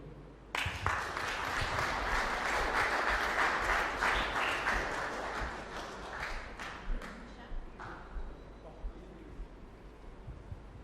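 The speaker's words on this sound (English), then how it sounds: "Please can we give him another round of applause?" Audience at a Human Rights Day commemoration applauds a speaker, sustained dense clapping from a sizable room that swells quickly, holds for several seconds, then thins to scattered claps.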